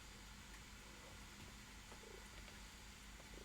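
A kitten perches on a shoulder and purrs steadily, a faint, continuous low rumble that runs through the whole moment with no speech over it.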